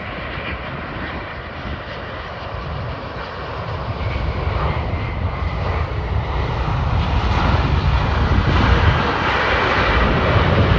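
A Delta heavy airliner lands on runway 12 right, its engine roar steady and broad, growing slightly louder and nearer across the stretch with no talk.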